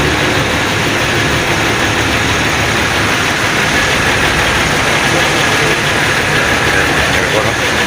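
A large Yutong bus engine idles, a loud, constant heavy rumble with steady mechanical roar filling the whole stretch, and voices talk faintly over it.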